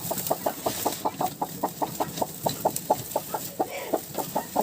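A broody hen, lifted by her legs off fifteen warm turkey eggs, keeps up a steady, rhythmic run of clucks. The clucking is close and fairly loud, with no voices over it.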